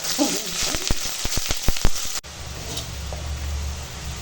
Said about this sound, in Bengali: দিয়ে দিয়ে দিচ্ছি পেঁয়াজ পেঁয়াজটা একটু হালকা ভেজে নেব